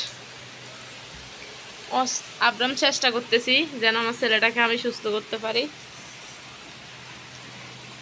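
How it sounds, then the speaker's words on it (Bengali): Steady first rain of the year falls as a soft, even hiss throughout, while a voice speaks over it in the middle stretch. "তো বৃষ্টির পানিগুলো অনেক ভালো লাগতেছে"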